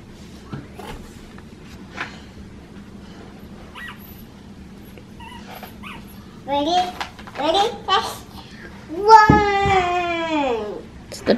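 Dogs yip and whimper in short, high, whining bursts that grow louder toward the end, mixed with someone talking and babbling over a steady background hum.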